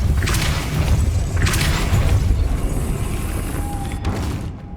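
A Depulso spell in Hogwarts Legacy lands as a couple of heavy booming bursts with shattering debris, loud and close over a rumbling background.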